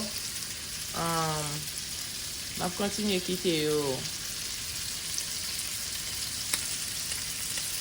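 Sausages fry in a pan while spaghetti is being made, giving a steady, moderately close sizzle throughout, with a few short stretches of talk in the middle.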